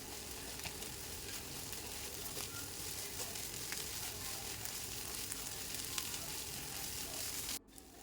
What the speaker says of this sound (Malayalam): മുട്ടയൊക്കെ ഒന്ന് ഫ്രൈ ആയി കിട്ടണം